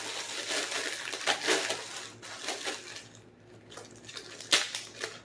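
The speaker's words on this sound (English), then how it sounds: "This is frozen okra, and I'm just going to throw it down into the flour." Frozen okra tossed into flour in a bowl, producing a series of crunchy rattling and crushing bursts with short pauses between them, close up and without talk.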